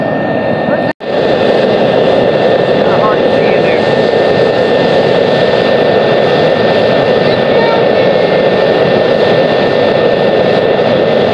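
Metal melting furnace burner roaring at high heat, a loud, steady, continuous jet-like roar filling the whole stretch after a brief sharp knock near the start.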